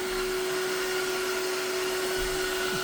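A Tineco iFloor 5 wet vacuum runs over an area rug, giving a loud, constant motor whine with a steady airy roar throughout, close up and uninterrupted, with no voices.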